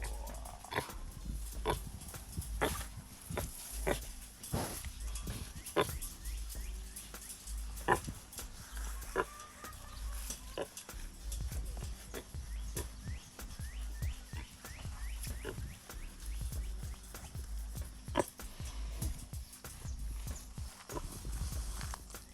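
A pig grunts while lying down to be scratched outdoors, with repeated low grunts and soft snorts in an uneven rhythm, close and clear over faint background sound.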